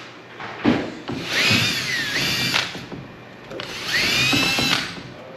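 A Forstner bit in a power drill boring shallow recessed holes into wood for a fireplace surround, with two rising whines of the motor biting in, separated by a short pause, close and clear.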